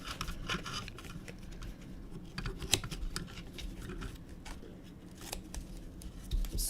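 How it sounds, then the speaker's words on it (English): Old fabric scissors cut through paper during card making, giving soft, close snips and crisp rustles in an irregular run at moderate level. "I'm struggling with the scissors."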